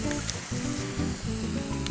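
Tomato paste sizzles steadily in a pan of half-cooked ground beef for chili con carne, a close, even frying hiss that runs the whole time with no talking.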